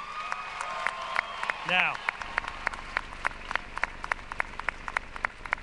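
An audience at a commencement ceremony claps in scattered, sparse applause that fades to individual claps, while a speaker briefly talks over it.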